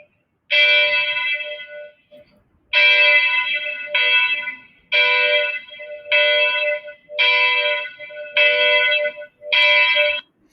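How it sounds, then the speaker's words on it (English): Church bells ring out over a city in seven long, resonant strokes, evenly spaced and alone, each one hanging before the next. "If you happen to live in a city with church bells, you probably have heard them."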